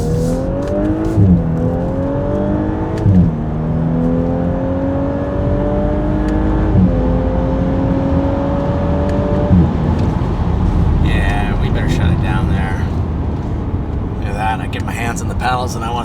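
A 2018+ Audi S5 coupe with an MBRP quad rear exit cat-back exhaust revs hard through the gears in manual, its engine note rising and dropping steadily, then clattering downshift pops near the end, loud and close with someone speaking over it.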